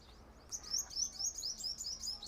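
Many small birds, including sparrows, chirp at a feeding shelter in a quick run of high, bright tweets. The chirps sound fairly close, repeat steadily over a quiet background, and no one talks.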